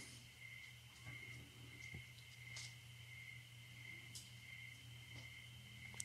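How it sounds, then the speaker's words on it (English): Faint, steady chirping of crickets in the distance, a continuous high trill with a low background hum and no talking. "It's like the sound of the crickets in the background."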